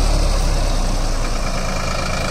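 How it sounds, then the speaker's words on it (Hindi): A tractor engine drones loud and steady while ploughing two furrows at once in a farm field for single-line trench sowing, a continuous heavy rumble with no talk. "अब देखो जैसे दो खूड़ पाड़ रहा ट्रैक्टर यो"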